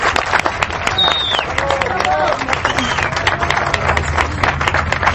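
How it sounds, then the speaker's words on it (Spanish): A crowd applauds at a gathering, dense steady clapping filling the whole stretch with a murmur of voices and crowd noise mixed in. "Les pido un aplauso para esta mujer tan bella, tan joven y de corazón tan generoso"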